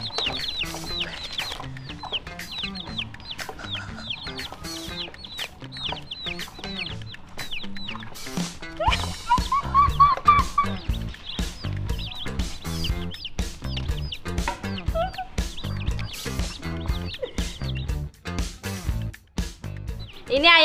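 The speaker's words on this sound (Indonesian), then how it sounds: "Ayo ayam-ayamku, kita jalan-jalan" Many chicks and hens cheep and cluck in busy, overlapping bursts close by at an animal market, with brief voices talking among them.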